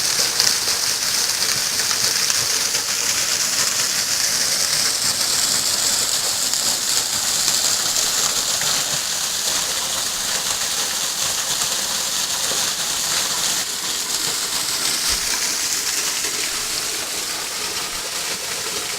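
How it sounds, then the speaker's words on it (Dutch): Water splashing steadily under the Mae Sapok Waterfall, a dense, continuous hiss and roar that stays loud and even throughout with no talk over it. "Dit is dus onder de waterval."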